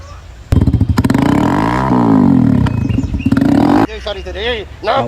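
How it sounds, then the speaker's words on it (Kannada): A Hero Splendor motorcycle roars loudly nearby, its aftermarket exhaust giving a deep, throaty, rattling rumble for several seconds before cutting off as someone speaks. "ಅಣ್ಣ ಒಂದು ಸ್ಪ್ಲೆಂಡ್ರಿಗೆ ಎಕ್ಸಾಸ್ಟ್ ಹಾಕಿಸ್ಬಿಟ್ಟ ನೋಡ್ರಿ. ಸೌಂಡ್ ಕೇಳ್ರಿ ನೀವು ಒಂದು ಸಲ."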